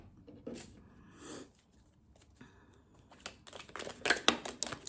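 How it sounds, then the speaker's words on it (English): A deck of tarot cards is shuffled by hand in soft bursts of riffling and sliding, growing louder and busier toward the end, close up with no talk. "Why is this so difficult to shuffle these cards?"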